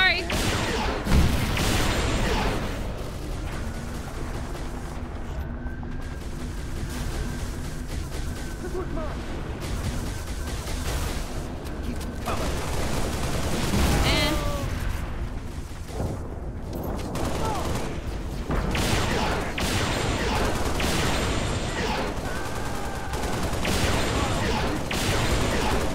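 Rapid gunfire in Halo: Reach, dense bursts of automatic fire and shots crackling almost nonstop with occasional heavier blasts, loud and close, with a voice talking over parts of it.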